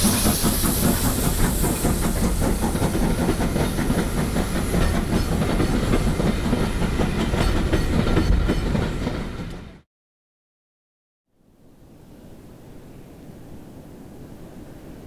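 Stanier LMS Black 5 steam locomotive hauling a passenger train at speed, a loud steady rush of steam hiss and rolling wheel clatter that cuts off abruptly, then resumes as a quieter, more distant rumble.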